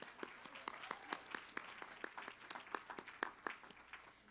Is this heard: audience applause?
yes